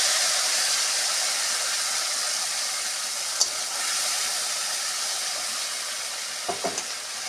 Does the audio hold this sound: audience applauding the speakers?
no